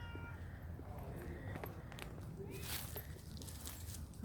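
A cat meows faintly at a house in need of paint and window repairs, with a few soft calls heard at a distance over steady outdoor background noise and occasional footsteps.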